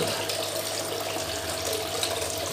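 Water splashing steadily from a fountain spout into a small koi pond tucked in a narrow yard under a stairway, a continuous close rushing trickle with no pauses and no voices.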